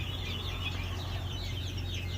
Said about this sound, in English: Looks like maybe some Rhode Island Reds, maybe some Barred Rock, some Arcanas.